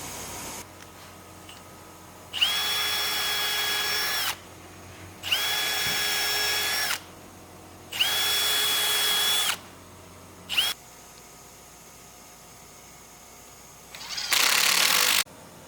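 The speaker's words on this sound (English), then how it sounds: "now we'll take our 1/8" drill bit, pre-drill all these holes, and then fasten the stainless steel screws." A power drill with a 1/8 inch bit pre-drills screw holes in an HDPE hatch on a 2016 Lund 208 GL boat, three steady whining bursts of about two seconds each, then a short blip and a final harsher burst, close and loud.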